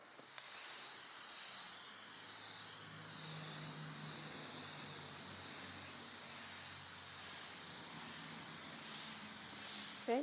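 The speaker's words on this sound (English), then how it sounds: "I'm going to seal it in with some Crayon matte clear coat" Matte clear coat sealer sprays from an aerosol can onto thrifted home decor in a long, steady, close hiss that continues without a break.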